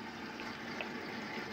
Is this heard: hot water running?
yes